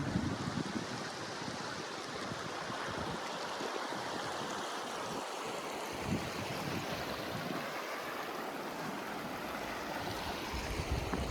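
A small mountain river near Leh rushes steadily, its broadband water noise continuous and fairly close throughout, with some low wind rumble and no voices.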